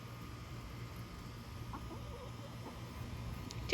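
Backyard hens cluck softly in a few scattered calls beneath a steady hum of background noise, no voices present.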